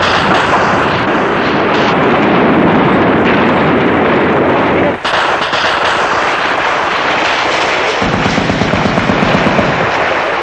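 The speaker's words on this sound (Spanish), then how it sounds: "Había mucho disparo." Gunfire during a ground bombardment rattles loud and close in dense, rapid bursts under a constant rushing roar, with a sharp break midway and a quicker staccato run of shots near the end.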